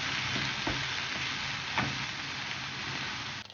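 Chopped leek sautéing in a pan, a dense steady sizzle close up with a few faint clicks, no voices.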